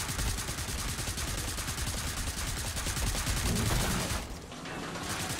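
Rapid sustained gunfire from the co-op zombie shooter Killing Floor 2, loud and continuous bursts with a brief dip near the end.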